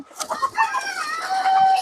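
Egyptian Fayoumi hens, about four and a half months old and starting to lay, clucking on a farm; several birds give close, irregular clucks and short calls over a quiet background.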